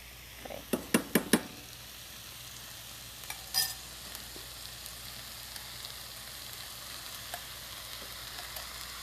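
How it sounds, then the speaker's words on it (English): Rice tipped into a pan of frying onions for palak rice, a few sharp clatters and knocks of stirring up front, then a soft, steady sizzle continuing quietly in the background. "Now I will add rice."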